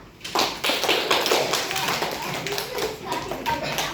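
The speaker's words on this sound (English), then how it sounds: "Claps for her." Schoolchildren in a classroom clap for a classmate, a fairly close, brisk patter of many hands that swells quickly and holds steady, with faint children's voices underneath.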